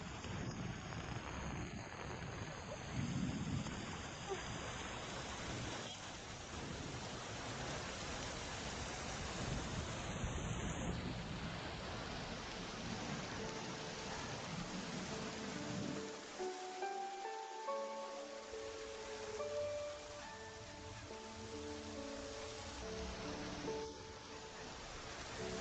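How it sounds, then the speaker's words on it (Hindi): Steady rain hisses across the whole stretch, mixed with wind rumble and scattered drips, continuous and fairly even in level. "बारिश।"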